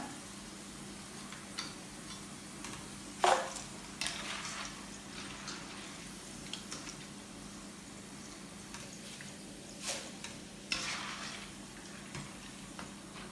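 Cassava chips deep-frying in hot oil for a crunchy mixture snack, a low steady bubbling sizzle with occasional faint scraping and clinks of a utensil, no voices.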